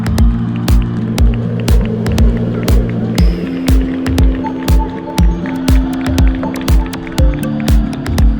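1300 stock cars race at a Friday night meeting at Kings Lynn, loud engines droning and shifting pitch as they pass, with repeated sharp clattering impacts throughout.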